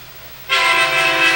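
A train in the video game Red Dead Redemption bursts in loud and close after a quiet start, its horn and rolling rumble sustained and washing over everything.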